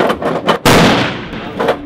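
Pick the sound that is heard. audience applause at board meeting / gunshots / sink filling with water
gunshots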